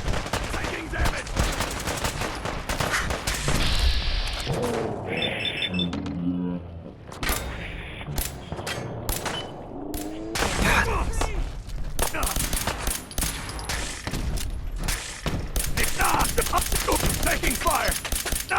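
Gunfire erupts in a Fallout 4 firefight, with rapid automatic bursts and scattered single shots that carry on almost without a break. Game characters shout and talk over the steady crackling barrage.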